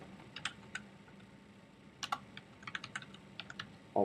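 Computer keyboard keys tapped to enter a file name while saving a Flash project, a few scattered clicks early, then a quick burst of keystrokes in the middle and a louder final key press at the end, close and quiet with no talking.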